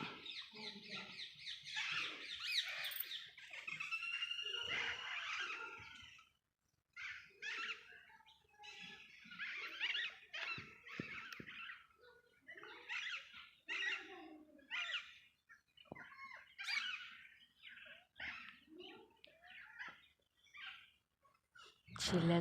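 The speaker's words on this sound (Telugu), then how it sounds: "పిట్టల అరుపులు. అసలు మామూలు కాదు కదా ఈ పిట్టలవే." Parrots and mynas call in an army-quarter garden in Rajasthan: loud, busy chirps and shrill screeches come in bursts throughout, with brief pauses and a voice mixed in.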